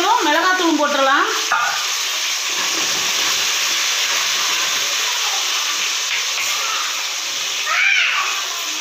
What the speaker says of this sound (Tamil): இப்போ பூண்டு வணங்கிடுச்சு, இப்போ வெங்காயம் சேர்த்துடலாம்.